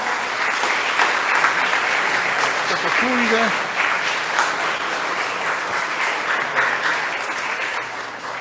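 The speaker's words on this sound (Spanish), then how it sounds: "Entonces damos un fuerte aplauso al Padre, párroco" A church congregation gives the parish priest loud, sustained applause during a Pentecost vigil Mass, with a dense wash of clapping and a voice speaking briefly partway through.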